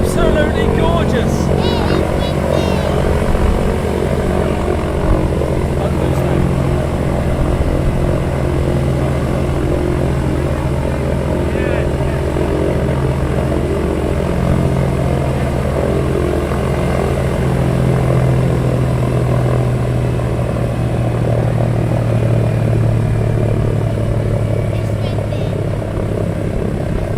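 Aircraft engines at a Sky Master open day, running as a loud, steady propeller drone with no break, roughened by wind buffeting.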